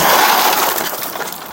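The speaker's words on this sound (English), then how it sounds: "I'm gonna break the glass and you're gonna get pulled out." Police officer smashing a car's side window during a forcible entry at a traffic stop: a loud, close burst of crunching, shattering glass that trails off into scattered tinkling fragments.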